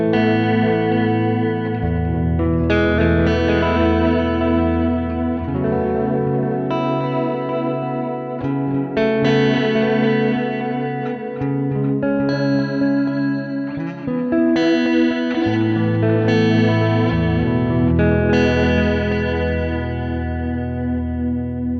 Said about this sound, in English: Preset 2 is more of a modulated style delay.